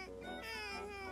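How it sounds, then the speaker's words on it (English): A cat gives one drawn-out, plaintive meow close by, clear over a quiet background. "It's such a cute kitty."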